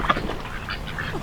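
Newly arrived ducks quack softly and repeatedly at close range, a loose cluster of short nasal calls over a light background rustle, with no talking.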